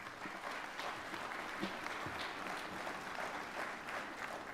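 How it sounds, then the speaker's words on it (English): Quiet, steady applause from the audience at a student of the year banquet, a moderate crowd clapping evenly throughout at some distance. "Everybody give them a round of applause"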